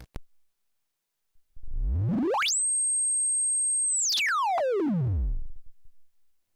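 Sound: synth oscillator sweeping from sub-audio to high

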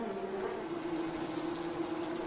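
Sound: wild mason bees at their mud nest

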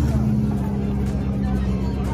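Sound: car engine revving

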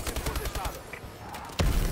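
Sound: gunfire from behind in a video game

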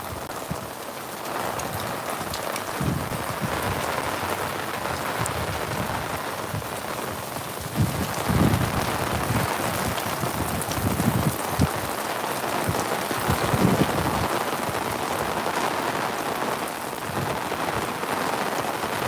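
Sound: heavy rain falling

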